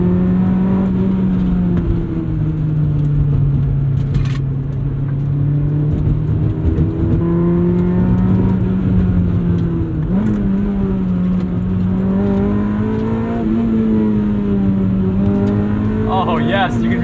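A 1997 Honda Civic Type R EK9 is driven hard, its engine humming steadily from inside the cabin and swelling and dipping in pitch through gear changes, with road noise and a brief rattle.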